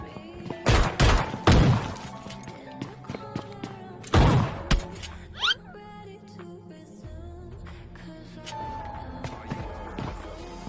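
Shotgun blasts in a video game, several loud, sharp booming shots at the start and one more later, amid scattered thuds and game sounds.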